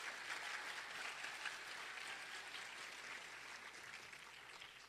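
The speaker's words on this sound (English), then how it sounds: "Seniors, how about a round of applause for those two counselors?" Sustained applause from a school audience of seniors honoring two counselors at a Michigan prep school event, steady and dense clapping filling the whole stretch with no pauses.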